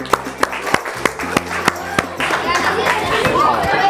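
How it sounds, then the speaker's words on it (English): Audience at a classroom game night applauds, starting with a few sharp, evenly spaced claps that swell into a fuller burst of group clapping mixed with crowd chatter. "Big round of applause for an awesome game night"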